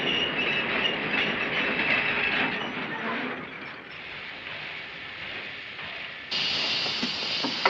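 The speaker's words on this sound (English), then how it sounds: "This is no passenger train." A freight train rolls past on the rails with a steady, loud rumble and clatter of wheels and wagons, a brief hiss and squeal, and a slight surge near the end.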